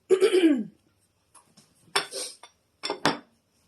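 A metal pizza pan clatters and clinks as it is set down, a few short knocks in a quiet kitchen.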